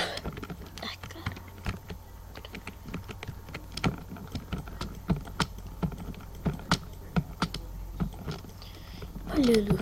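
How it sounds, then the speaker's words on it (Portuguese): Computer keyboard keys clatter in quick irregular bursts of clicks while Ace of Spades is played, close and fairly crisp, with soft game sounds and muttered speech underneath. "Olha o chato do teclado"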